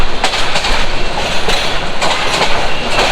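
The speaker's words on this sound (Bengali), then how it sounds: "আমাদের ট্রেনটা কিন্তু এখন কমলাপুর রেলওয়ে স্টেশন থেকে কিন্তু এখন ছেড়ে দিচ্ছে" The Mohanganj Express pulls out of Kamalapur railway station in Dhaka. It makes a loud, steady rumble with rhythmic clickety-clack wheel beats and faint squeals, heard close from on board with no voices.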